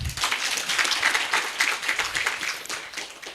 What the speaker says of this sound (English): Give me a big round of applause.